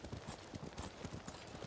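Horse hooves clip-clop in a steady, fairly quick walking rhythm in the video game Ghost of Tsushima, moderately loud and heard alone with no talk over them.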